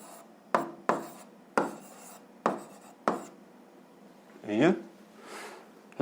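Pen strokes scratch across paper as an answer to a physics exercise is written out by hand: a series of short, close, rasping bursts in a steady rhythm, followed by a couple of longer scribbles.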